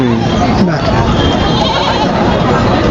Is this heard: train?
no